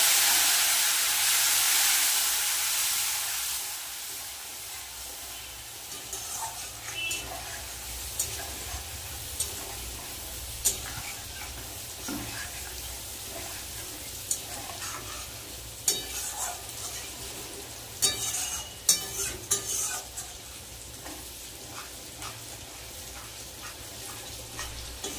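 Water is poured over spices fried in hot oil for a soybean-fritter curry, setting off a loud steaming hiss that settles into a steady sizzle with scattered clinks of a spoon against the pan.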